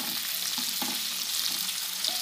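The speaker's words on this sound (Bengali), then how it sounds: "ভালো করে ভেজে নেব" Whole spices, onions, garlic, ginger and green chilies frying in hot oil, giving a steady close sizzle with a few soft stirring scrapes and taps; no voices.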